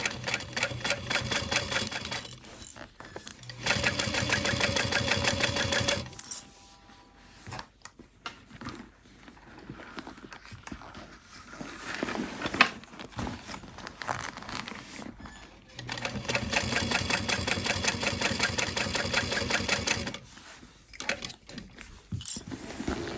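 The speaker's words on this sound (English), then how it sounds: "If I stop top stitching, I want to make sure that my needle is down into the fabric so the layers don't shift." A sewing machine runs in long rapid bursts while top stitching a backpack, with pauses in between that hold quieter handling sounds and clicks.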